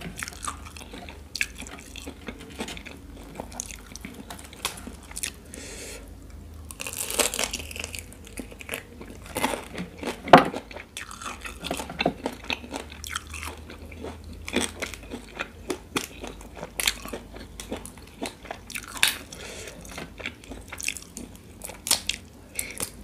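Close-up eating of homemade bucket shrimp: crunchy bites, wet squishes and chewing repeat steadily throughout, near and intimate, with no talking.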